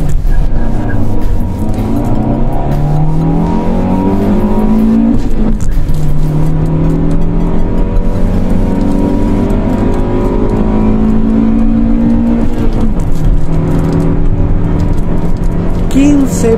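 A Honda CRX del Sol convertible accelerates hard at Bogotá altitude, its engine note climbing through several gear-spaced sweeps in a loud, steady drone close to the microphone.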